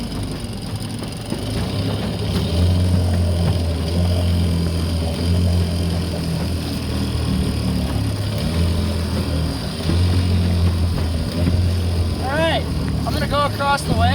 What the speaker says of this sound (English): So now that I got the engine running really nice and good